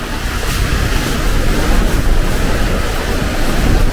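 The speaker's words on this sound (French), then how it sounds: "On voit bien les vagues de surface par ce vent fort." Strong wind roars with sea waves rushing and breaking around a sailboat running fast under heavily reduced sails, a loud continuous wash with no voices.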